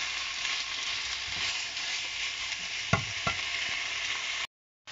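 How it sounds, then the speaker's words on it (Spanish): Chicken pieces and vegetables frying in a pan, a steady sizzle with a couple of sharp clatters of stirring near the end, then a brief cut to silence. "echamos el pollo para que se vayan haciendo juntos. Movemos un poco y dejamos que se vaya haciendo"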